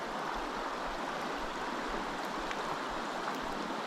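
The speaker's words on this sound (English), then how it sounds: "Oh, water's moving." Fast-moving river water rushes steadily at a salmon fishing spot, a dense continuous broadband roar with no pauses, moderately close and unbroken by talk.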